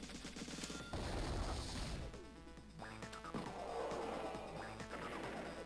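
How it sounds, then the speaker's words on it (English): Cannons are blown up in an attack in the video game Advance Wars 2, a burst of crashing, gunfire-like explosions over a game music loop, followed by further sharp blasts and effects. "I'll blow up at least one of the cannons, because I have my super ready"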